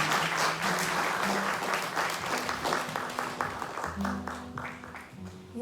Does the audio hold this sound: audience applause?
yes